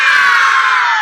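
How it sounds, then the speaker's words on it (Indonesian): A group of children shouts a cheer together, a loud, sustained, high-pitched collective yell close by that holds for about a second. "kalian teriak semangat"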